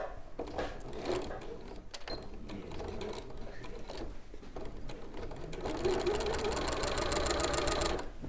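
A sewing machine stitches a fabric seam with a steady, fast mechanical whir and rattle that picks up and grows louder toward the end, with no talking.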